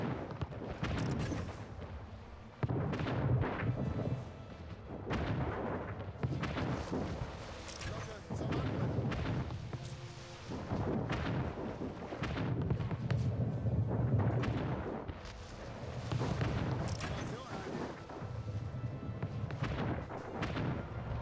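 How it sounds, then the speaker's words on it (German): Naval battle in the strategy game Anno 1800, a ship under artillery fire, with repeated heavy booms and rumbling blasts rolling through the scene while a voice talks over the gunfire. "Schiff unter Beschuss."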